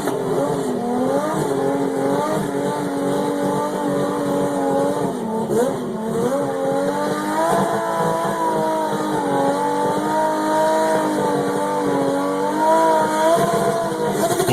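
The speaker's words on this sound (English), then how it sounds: "is the rowdiest fucking Supra I've ever seen." A Toyota Supra race car roars loud and near, its engine revving and rising and falling steadily while its tires scrub and squeal on pavement. No voices are heard.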